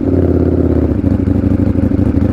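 A Ducati Panigale V4S motorcycle engine idling just after a cold start, a loud, close, steady low throb with a fast even pulse and a little mechanical clatter, no voices.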